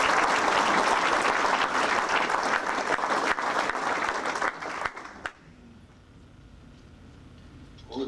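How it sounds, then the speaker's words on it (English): Rotary Club members at a meeting give a dense round of applause that runs for about five seconds, then stops abruptly, leaving a quiet room. "Let's give them a round of applause."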